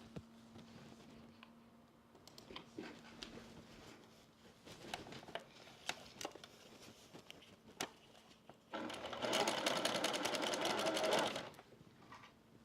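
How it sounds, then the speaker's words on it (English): A sewing machine runs a quarter-inch seam on a quilt block, with soft handling noises and pins being moved before a sustained, loud stretch of stitching near the end. "I'm going to sew them in this order. A 1/4 inch seam all the way down"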